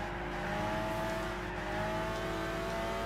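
Racing car engines in Gran Turismo 6 during a championship race between a Mitsubishi and a Nissan Skyline R34, a continuous loud revving drone with no speech over it.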